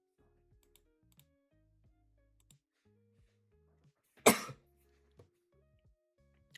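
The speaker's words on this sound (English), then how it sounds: "the cough's going insane" A single loud cough bursts out in a quiet room during a gaming session, set against faint keyboard typing and soft clicks.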